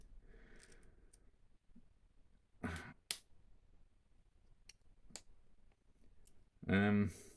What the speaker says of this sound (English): let me just click that back in